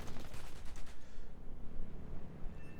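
Fast, close bursts of cannon fire from a Me 163 B Komet rocket fighter in War Thunder rattle over the first second, then give way to a steady rumbling engine drone.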